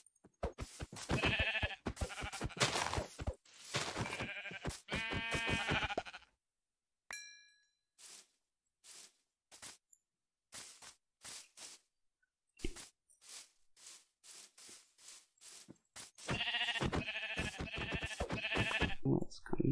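Sheep bleating in Minecraft, a few short separate bleats in a quiet stretch between loud bursts of game music and noise, with a player talking at times.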